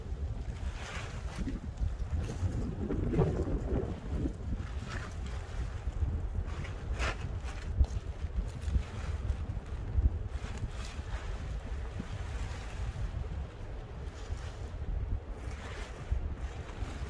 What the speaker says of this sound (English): Did I mention it's windy?